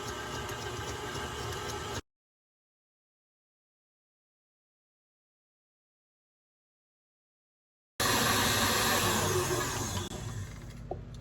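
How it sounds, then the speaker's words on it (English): An electric mixer whips egg whites for protein bread, a steady loud motor whir that runs for a couple of seconds, cuts out to silence, then resumes close by. "5 minutes of whipped egg whites"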